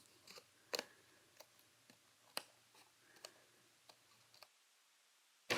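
Scissors cut paper for a floral craft, giving sparse, sharp snips and clicks at irregular intervals, close and quiet over a faint hum, with no voices.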